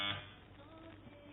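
A quiz buzzer is pressed in a test, giving a brief electronic tone at the start that fades into a faint, low hum with light background noise.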